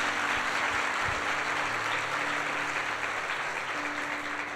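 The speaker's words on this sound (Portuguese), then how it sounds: "Então dá um aplauso a Jesus, Rei." A crowd at a Sunday church service applauds steadily, a dense wash of clapping that holds for several seconds without pause.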